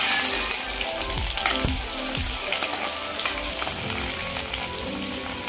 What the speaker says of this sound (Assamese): তেল গৰম হৈ গ'ল, এতিয়া ঢালি দিম পিঁয়াজ।